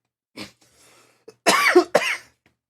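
A person coughs twice in quick, harsh bursts after a brief throat sound, fairly close and loud, with near silence between the fits.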